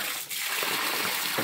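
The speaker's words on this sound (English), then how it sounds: "and then the water's brown because we've been washing them." Root vegetables washed in a container of water, with a close, continuous gushing and sloshing and small splashes as the water churns around them.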